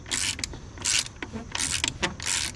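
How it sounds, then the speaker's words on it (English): Ratchet wrench clicking rapidly while turning the belt tensioner bolt on a Subaru Forester during alternator replacement, heard as close, repeated bursts of ratcheting with short pauses between strokes. "This just will take about a solid minute of ratcheting"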